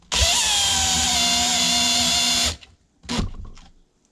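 A power drill drives a screw into a pantry shelf support, giving a loud continuous whirring whine for about two and a half seconds that stops abruptly, followed by a short second burst.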